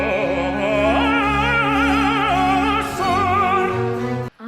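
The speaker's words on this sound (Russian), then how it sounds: "Но трель Майкла Спайрса совершенно." A male tenor's operatic voice sustains a rapid, even trill with wavering pitch, soft and airy, held with orchestral accompaniment underneath and ending cleanly.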